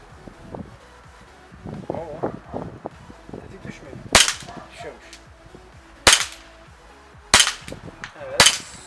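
Air pistol shots ring out during target shooting practice: four sharp, close cracks spaced a second or two apart. They follow a stretch of low mumbled talk and light handling noise.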